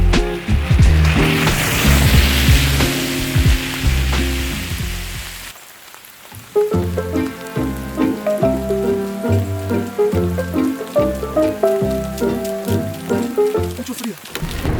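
Rain falls in an autumn forest in Japan, a dense hiss of drops on surfaces that is loud at first and then continues under a steady rhythmic background of music-like tones.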